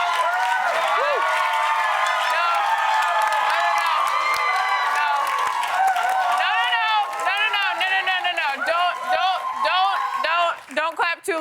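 A television talk-show studio audience claps and cheers loudly and continuously, with whoops and shouted voices riding over dense applause that thins toward the end.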